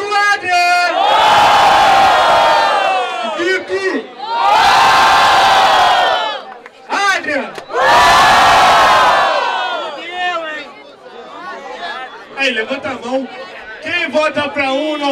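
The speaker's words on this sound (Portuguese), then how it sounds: "Muito barulho pra quem gostou da rima do Adrien!" A crowd at a street rap battle erupts in loud cheering, whistling and shouting in three big bursts, separated by a host's amplified shouted prompts, then settles into scattered voices and chatter.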